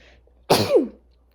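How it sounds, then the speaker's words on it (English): A single woman's sneeze bursts out sharply and close, a quick explosive blast followed by a short falling vocal tail, then quiet. "I have to sneeze."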